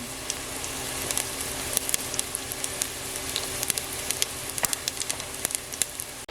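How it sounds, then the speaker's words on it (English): A teaspoon of mustard seeds in hot oil, crackling with frequent sharp pops over a constant close sizzle, without any voices. "Can you hear them crackling?"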